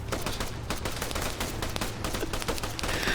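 Rapid automatic gunfire in Arma 3 during a Zeus operation assault on an airfield, sustained dense bursts of close, loud shots running for the whole stretch with no talking.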